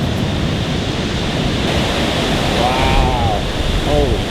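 White River Falls waterfall in a state park, a loud, steady rushing roar of falling water heard close up, with faint whistling tones partway through.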